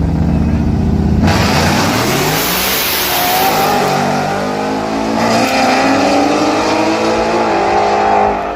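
Small-tire street outlaw drag cars launch at full throttle, their engines screaming loud and close for several seconds as the revs climb and shift.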